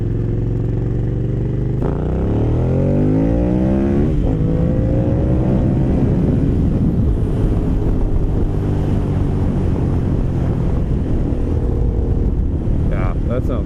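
An Aprilia Caponord 1200 motorcycle with a GPR exhaust and HealTech ESE roars up through the gears from about 20 to 80 mph, its loud, close engine note climbing repeatedly over steady wind rush.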